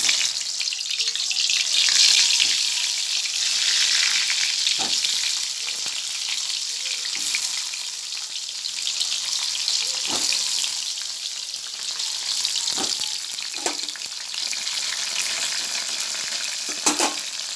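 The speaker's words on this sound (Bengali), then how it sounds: "দেখুন, পটল ভাজা বসিয়ে দেবো।" Pointed gourd fries in a pan with a loud, steady sizzle, broken by occasional sharp knocks and scrapes of a utensil against the pan, with no talking.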